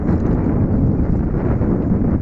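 Steady, heavy wind rushing and buffeting against the microphone, a constant low roar with no voices.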